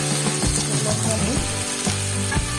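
Garlic and ginger paste fries in a pan for an egg flower dish, a steady loud sizzle with scraping stirring noises and clinks as the paste is moved around.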